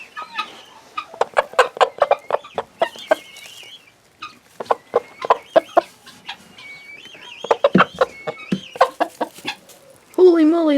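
Hens cluck and squawk close by in rapid bursts, with a brief pause midway and a louder, drawn-out squawk at the end.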